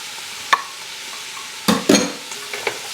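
Carrots, celery and gold potatoes sautéing in a pot: a low, steady sizzle with a few sharp stirring scrapes and clicks from a utensil against the pot, close and fairly quiet, with no voices.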